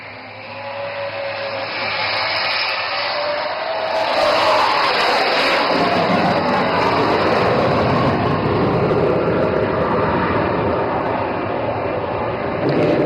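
A Sukhoi fighter jet roars through a low overshoot at an air show, its engine noise swelling into a loud, continuous broadband rush that holds steady to the end.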